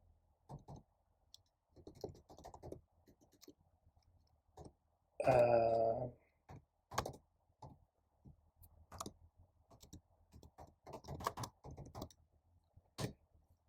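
Quiet, scattered taps and clicks on a computer keyboard in bursts of a few keys at a time, close and soft. A single brief vocal sound breaks in midway.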